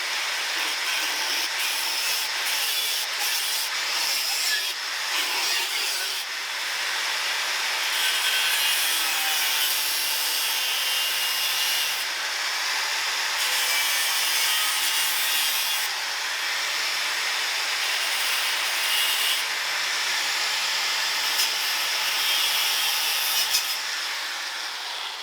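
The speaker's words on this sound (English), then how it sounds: "The first thing I do when repairing chassis is to grind out the affected area." Grinder working rusty chassis metal on a 1960 Series 2 Land Rover, a steady, continuous, bright hissing rasp that holds at even loudness throughout with slight shifts in pitch.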